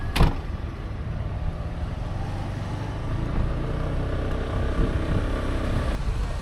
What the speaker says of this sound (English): There is some heavy traffic and lots of people.